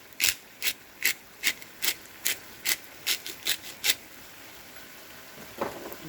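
Pepper mill grinding pepper over a tuna shakshuka, about eleven crisp rasping twists in an even rhythm, close and clear, then a softer final turn.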